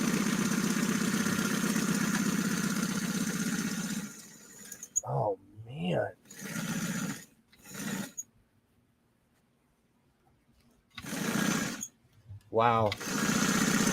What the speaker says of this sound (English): It's just chewing through the fabric in a good way.